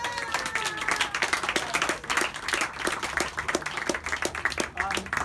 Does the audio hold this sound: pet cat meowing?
no